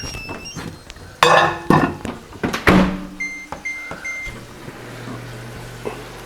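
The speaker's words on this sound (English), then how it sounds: "Put this in the microwave for about 30 seconds" Dishes clatter near a microwave as a rib glaze is set in to heat. The door shuts with a sharp clunk, buttons beep several times, and the oven's low steady hum starts up and keeps running.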